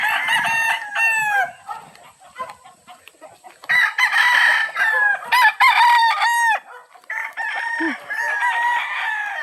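Several loud rooster crows ring out close by, one after another, with clucking hens between them and a brief low human sound near the end.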